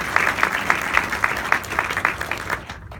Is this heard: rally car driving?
no